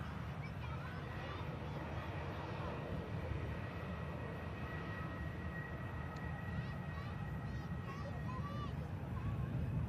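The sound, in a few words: EasyJet airliner touching down with reverse thrust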